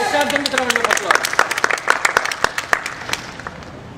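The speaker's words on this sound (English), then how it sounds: "Let's start them with a round of applause." Live comedy stage show audience claps loudly in a dense flurry of crisp hand claps that thins out toward the end, with voices heard over the start.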